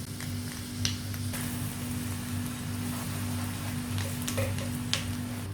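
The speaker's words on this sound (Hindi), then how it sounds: "घी पिघलने के बाद हम इसमें 1 टेबलस्पून भरकर चॉप किया हुआ लहसुन डाल देंगे" Soft, steady sizzling of chopped garlic frying in ghee, a constant crackle with a low hum underneath and a few faint clinks.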